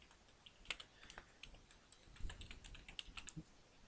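Quiet clicks of someone typing a command on a computer keyboard at a Linux terminal, irregular keystrokes spread across the span with a couple of heavier key presses, close and alone.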